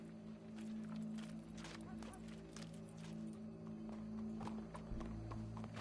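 Horse hooves clip-clop in a steady walking rhythm of soft, distinct thuds, set against a background of sustained tonal music and low ambient noise.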